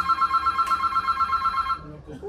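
A mobile phone rings in a hotel room at night, sounding a steady repeating electronic tone pattern that cuts off abruptly, and voices talk around it.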